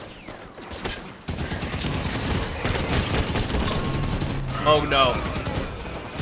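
Rapid gunfire bursts in the Halo 5: Guardians video game, heavy and continuous through a battle with a sharper flurry near the end, and a player speaks briefly over it.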